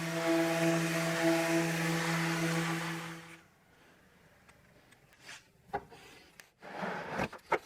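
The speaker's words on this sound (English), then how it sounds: "So I have to sand all of these panels first" Wooden kitchen cabinet door panels being sanded, with a powered sander humming steadily and close for about three seconds before it stops, followed by quiet stretches and a few faint knocks and handling noises.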